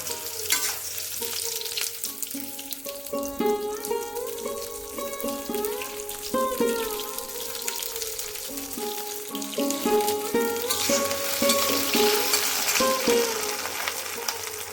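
Pointed gourd (potol) pieces fry in mustard oil in a kadai with a steady crackling sizzle, with intermittent tonal clinks and scrapes of stirring in the foreground. The sizzle swells louder toward the end, and no one talks.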